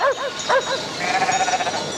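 Sheep kept for milk and cheese bleat several times in quick succession, close and clear, with a sustained higher cry trailing off at the end.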